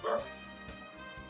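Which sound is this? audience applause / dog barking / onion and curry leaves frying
dog barking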